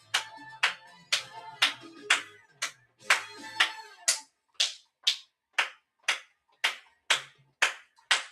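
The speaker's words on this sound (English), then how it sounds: "start off with us clapping our hands and moving from right to left" Hands clap in a steady, evenly spaced rhythm, about eighteen sharp close claps, with a low voice murmuring under the first half before the claps continue alone.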